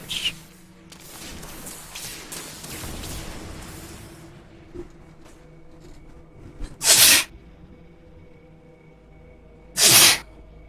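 Two sharp allergy sneezes, one around the middle and another near the end, burst out loudly over quiet game sounds and soft background noise.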